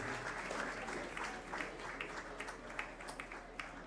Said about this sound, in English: Please give a round of applause to welcome the district governor of District 913.